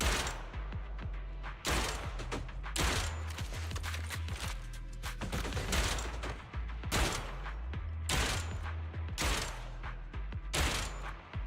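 Gunshots in Zenless Zone Zero ring out as sharp, evenly spaced single blasts over a low steady game hum, fairly loud and close, repeating roughly every second or so.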